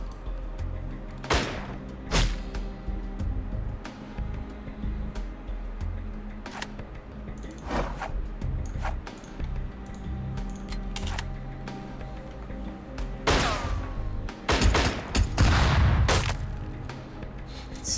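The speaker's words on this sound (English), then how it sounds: "Flashbangs. All of the flashbangs." Flashbang grenades in the video game Tastee: Lethal Tactics, several sharp bangs scattered irregularly over steady background noise, with a heavier cluster of blasts toward the end.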